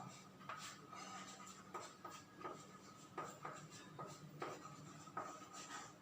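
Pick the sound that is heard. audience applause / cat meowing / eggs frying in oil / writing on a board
writing on a board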